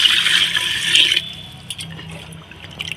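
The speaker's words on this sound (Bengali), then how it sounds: "ভাতটা বসিয়ে দেবো কেন ভাত তো সময় লাগবে তো হতে জলটা দিয়ে দিই" Water splashes and pours into a pot set on a clay stove for cooking rice, a loud, bright rush for about a second that gives way to scattered drips and small knocks.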